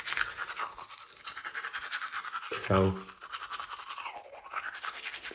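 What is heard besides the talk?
brushing teeth with a parodontax soft bristle toothbrush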